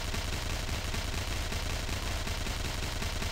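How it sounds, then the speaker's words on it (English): The Gunner's mega gun special ability firing in the Tera video game, a dense, unbroken stream of rapid heavy shots, loud and close, continuing steadily the whole time without pause or talk. "You have this meter you build up where you can use special abilities, like with your mega gun."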